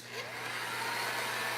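A heat gun runs steadily while drying paint on a furniture piece, a continuous close whirring hiss of fan and air with a low hum beneath, no talking.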